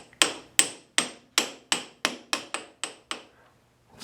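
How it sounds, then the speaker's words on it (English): Ten sharp metallic taps seat a heavy-duty Bison lathe chuck, struck at a steady, slightly quickening rhythm, each ringing briefly before the next, close and clear with no talk. "I'm starting to get it snug, so I'm going to start tapping it in a little bit."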